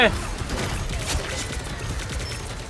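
Punisher's continuous gunfire in the video game Marvel Rivals, a loud close stream of rapid shots with mechanical clatter running throughout, while a player talks over it.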